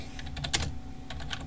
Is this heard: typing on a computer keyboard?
yes